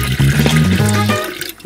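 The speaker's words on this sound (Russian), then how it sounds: "Сейчас чуть-чуть добавим водички" Water being poured into a home autoclave packed with canned fish in tomato sauce, a short, close splashing pour that runs steadily and then tapers off.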